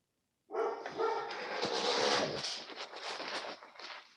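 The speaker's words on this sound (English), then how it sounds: "Yeah, that's my dog barking." A pet dog barks in a rapid burst of several loud yaps that blur together, starting abruptly after a moment of silence and running on for a few seconds, close by.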